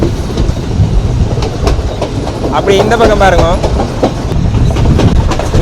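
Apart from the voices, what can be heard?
train on Sri Lankan coastal railway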